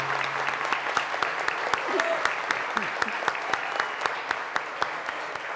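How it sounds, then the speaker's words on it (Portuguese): Applause for retired teachers at a public budget hearing, steady dense clapping from a seated audience with sharp individual claps standing out, and faint voices underneath. "Palmas para as professoras."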